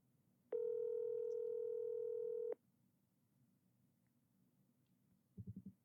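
A phone call rings out before going to voicemail: a single long electronic ring tone of about two seconds in a quiet room, then silence, then a short burst of quick, low pulses at the end.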